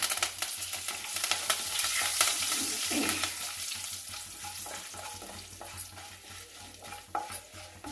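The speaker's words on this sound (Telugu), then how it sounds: "ఇదండి ఒక 2 ఎండుమిర్చి, కరివేపాకు వేసుకోండి" Dried red chillies and curry leaves fry in hot oil in a pan for brinjal ullikaram, giving a steady crackling sizzle throughout with occasional stirring scrapes and small pops, close and fairly loud.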